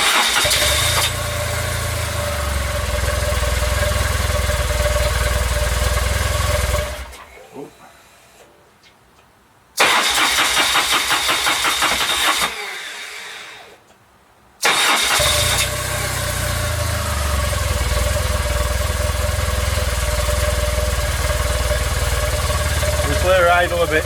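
A BMW R1200C motorcycle, just fitted with a new fuel pump and filter, cranks and idles with a low rumble, cuts out twice into near silence, then restarts and runs steadily again.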